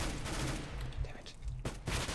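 Spraying automatic gunfire in Counter-Strike: Global Offensive, rapid bursts of shots broken by a short pause and then resuming, fairly quiet overall.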